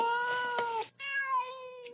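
A domestic cat meows close up, two drawn-out tonal meows with a short break between them, heard clearly with no other sound.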